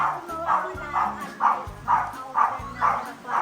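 Dog barking in a home, sharp yips repeating roughly every half second in a steady series, fairly close, with people talking and household noise underneath.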